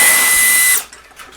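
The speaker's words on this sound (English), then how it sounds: "I am surprised at the amount of power that these modern dusters are putting out." A cordless electric air duster with a brushless motor, fully charged and fitted with its default nozzle, blows a loud steady high-pitched whine that cuts off after under a second, leaving near silence.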